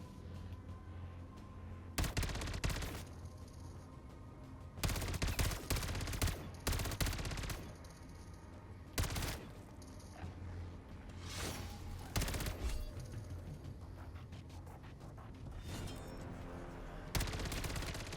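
Video-game sentry gun firing: repeated loud bursts of automatic gunfire in clusters spread across the stretch, over a constant noisy battle background, with no talk.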